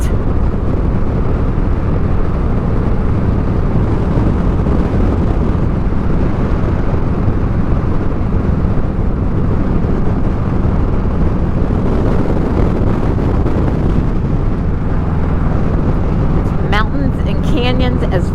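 Heavy, constant wind roar buffets a motorcycle riding along Texas Highway 170, a winding canyon river road on the border between Terlingua and Presidio. It is loud and unbroken for the whole stretch.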